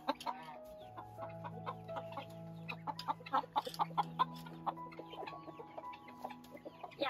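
A hen clucks softly and repeatedly close by among newly hatched goslings in a farmyard, with short bird calls and light peeps scattered through a quiet background.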